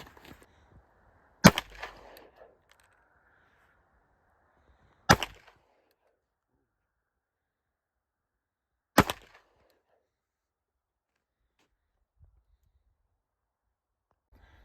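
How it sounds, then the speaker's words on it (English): Three sharp pistol shots from a CZ 75 spaced several seconds apart, each a loud crack with a short tail, separated by near silence at an outdoor shootout. "Chris is going to shoot the CZ75 now"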